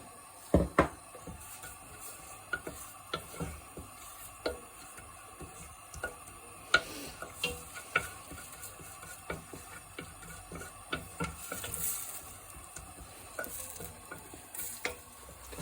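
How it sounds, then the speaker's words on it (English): Cumin seeds sizzle in melted butter in a pan with a soft, faint crackle, accompanied by intermittent clicks and light stirring taps, quiet and close with no talking. "So we add some cumin seeds to the butter."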